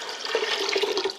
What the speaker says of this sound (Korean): 물이 너무 작으면 안 되니까 물을 약간 낙낙하게 넣어 주셔야 돼요